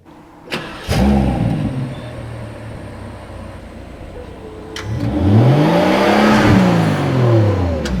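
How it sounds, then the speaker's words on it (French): A Rolls-Royce Cullinan Black Badge SUV engine starts and runs outside, then revs up smoothly and settles, heard at moderate distance with some wind and ambient noise. "sur la Cullinan, on entend un peu le moteur contrairement à la Ghost"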